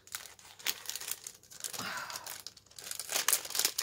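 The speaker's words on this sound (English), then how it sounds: "And then let's rip this." Packaging being ripped open during an unboxing of an art supply creativity box, with close, continuous crinkling and tearing in uneven bursts.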